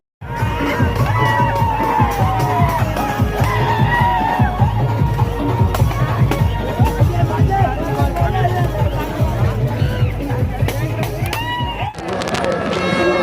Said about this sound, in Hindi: ये भीड़ है